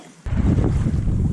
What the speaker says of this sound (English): And we got some wind, which of course is going to make it impossible for you to hear what I'm saying.